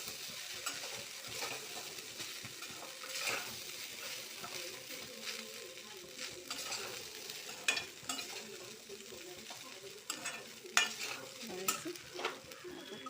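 Coconut rice with a little lemon juice is stirred in a pan: soft, scraping spoon strokes with light clinks of utensil on metal, fairly quiet and close.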